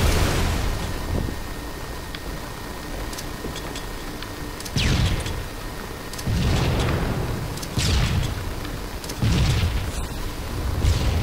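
Grenade blasts in Halo 3 multiplayer, several loud booming bursts spaced a second or two apart over steady game background noise, with no talking.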